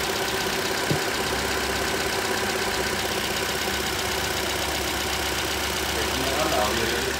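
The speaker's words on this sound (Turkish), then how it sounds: "Yanma odasında bir bozukluk var, yani normalde egzar motor böyle çalışmıyor." A Chevrolet car engine with a combustion chamber fault idles unevenly, a steady rough running drone that swells and dips, up close, with people talking over it.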